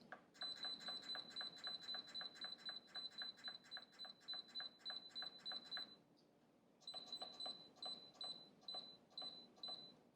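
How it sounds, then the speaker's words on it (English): An Instant Pot Duo Mini pressure cooker beeps in a rapid, even series of short electronic tones, pauses for about a second, then resumes the quick beeping; quiet and close, with no talking over it. "you're going to hear a beep telling you it's all set to go"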